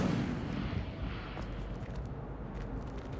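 A fire spell, Incendio, is cast in the video game Hogwarts Legacy as a soft, rumbling roar of flame that swells at the start and slowly fades, faint and with no voices over it.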